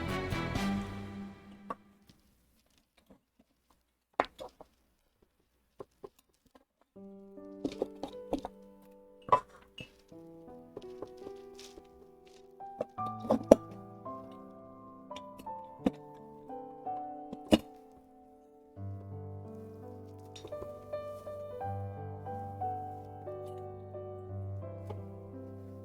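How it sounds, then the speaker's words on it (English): A camera mount bangs and thunks each time it is moved, producing scattered sharp knocks and clunks, some loud and close, over quieter handling rustle. "There's this really like banging noise every time I move stuff."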